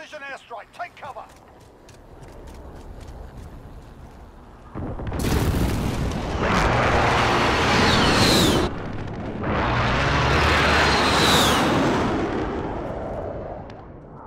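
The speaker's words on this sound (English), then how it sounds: "Precision airstrike, take cover!" Precision airstrike explosions in Call of Duty: Modern Warfare arrive as two long, loud, roaring blasts with rumbling tails, following a few sharp clicks and faint earlier tones.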